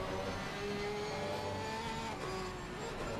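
Race cars, a Porsche, a BMW and a Ferrari, in a sim racing game at the Hungaroring, give off a steady engine drone with shifting pitch, blending into a continuous mechanical hum.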